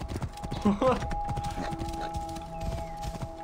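A horse in Assassin's Creed Origins clip-clops with hoofbeats and a short whinny, fairly close and moderately loud, while someone talks and laughs over it.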